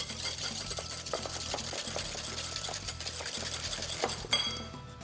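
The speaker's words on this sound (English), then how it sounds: "Now give that a really nice whisk." A whisk beats two separated egg yolks in a bowl, a fast, steady clatter of wire against the bowl running close and continuous, with no voices.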